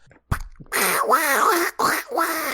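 A voice imitates a Donald Duck quack, a few close, loud, nasal, warbling squawks in separate bursts with brief gaps between them.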